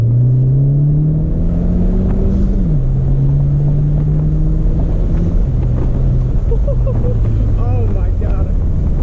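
Modified 10th Gen Honda Civic Si with a loud turbo engine pulling hard on sunny Michigan back roads, a strong droning engine tone that climbs and shifts pitch amid heavy wind rush, with faint chirping turbo sounds near the end.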